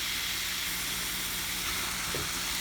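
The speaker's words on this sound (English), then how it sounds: "You want it to be sizzling so the meat cooks evenly." Ground meat sizzles in a hot frying pan, a loud, continuous broadband hiss close by with no talking.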